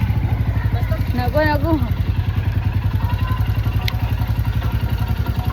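A motorcycle engine idles with a steady, close chug through the whole stretch while the bike is parked, and voices talk briefly over it.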